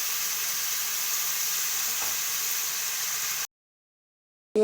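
Chicken pieces for a spicy chicken pickle sizzle steadily in a pan for a few seconds, a continuous hiss with faint crackle that then cuts to silence before a brief final sound.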